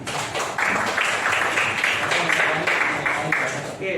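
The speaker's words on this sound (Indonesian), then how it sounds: "tepuk tangan untuk kita semua" A group applauds together at the close of a mindfulness session in a teachers' workshop, sustained brisk clapping from a roomful of people, loud and continuous for several seconds with a murmur of voices mixed in.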